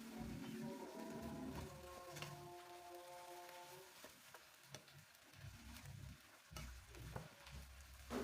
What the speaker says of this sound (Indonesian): Kita aduk-aduk atau kita osreng-osreng sampai kangkungnya melembut.